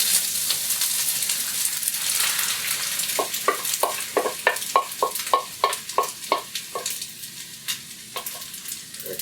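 An egg cracked into a hot pan of fried pasta, Yaki Pasta style, sizzles steadily under a quick run of rhythmic stirring and scraping taps that repeat about twice a second, close and moderately loud.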